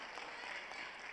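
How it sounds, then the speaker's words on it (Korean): Church congregation applauding during a Korean worship service, a soft, steady wash of clapping heard from a distance, with no voices over it. "그럼 반가우신 분 박수 한번 쳐주세요."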